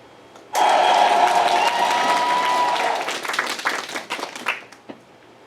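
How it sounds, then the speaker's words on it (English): An audience bursts into loud, dense applause that holds steady, then thins into scattered claps and fades out, with faint voices at the edges. "Let's give a round of applause for the sincere speech given by Jack."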